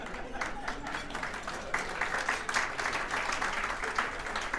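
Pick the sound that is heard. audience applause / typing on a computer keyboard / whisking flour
audience applause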